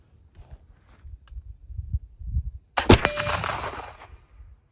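Black powder gun firing a charge made with used coffee grounds: a single sharp, loud report near the midpoint, followed by a ringing, crackling decay, with soft handling noises beforehand.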